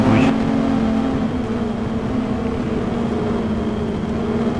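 Car engine in Arma 3 Altis Life, the modded video game, droning steadily at a loud, sustained pitch with a brief rise at the start, heard on its own without talk.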